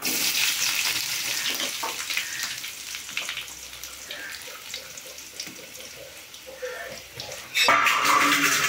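Onions tipped into hot oil with popped mustard seeds and curry leaves, giving a continuous crackling, watery sizzle with stirring scrapes. A sudden louder hiss surges near the end; no one speaks.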